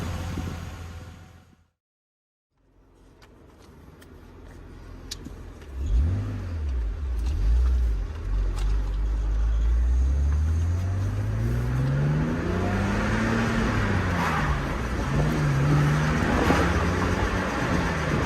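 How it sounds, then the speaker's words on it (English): A BMW E46 330i Cabriolet with a worn wheel bearing drives on the road, its engine rising and falling through gear changes while a steady droning hum from the bearing grows louder with speed, continuous road noise throughout with no talking. "what's the first thing that you can hear? Well, realistically, it's that wheel bearing"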